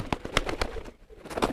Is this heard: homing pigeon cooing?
yes